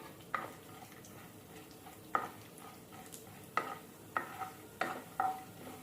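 Fenugreek seeds and chana dal frying in hot oil for karivepaku karam, soft sizzling broken by sharp scrapes of a spoon stirring against the pan, about six distinct strokes spaced unevenly.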